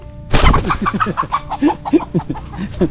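A chicken clucks rapidly and repeatedly up close, loud and agitated, in a quick run of short notes.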